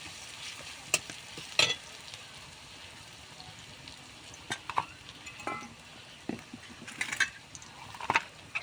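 Ginger, garlic and onion fry in a pan for khichuri with an even, crackling sizzle. Sharp scrapes and clanks of a spatula come every second or two as they are stirred.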